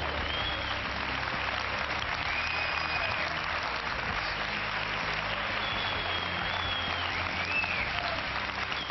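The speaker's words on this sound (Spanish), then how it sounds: "¡Un aplauso para Chileno!" A studio audience on a reality show applauds a contestant in sustained, dense, even clapping that carries steadily at moderate volume, with faint tonal whistles or cheers mixed in.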